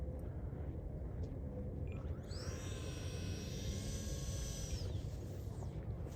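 Small 3D-printed PLA Viggen RC jet with a 50mm electric ducted fan flying in to land, a distant whine rising and then fading over a few seconds against steady outdoor wind rumble.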